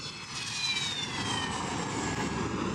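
A Syrian MiG-23 jet at an airbase, a loud sustained roar of jet engine noise with a sweeping whine that holds steady, no voices over it.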